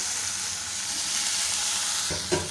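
Onions, carrots and potatoes sauté in a pan for a tiffin dish, giving a steady close sizzle and hiss throughout with a couple of brief stirring clatters near the end.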